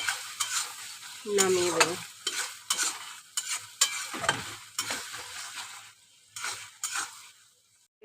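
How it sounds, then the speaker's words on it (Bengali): Shrimp and fig curry with ghee being stirred in a pan, a spatula scraping in repeated strokes over a soft sizzle, close and fairly quiet, with brief pauses between stirs. "সামান্য ঘি দিয়ে দেবো। দিয়ে আমি একটু নাড়াচাড়া করে"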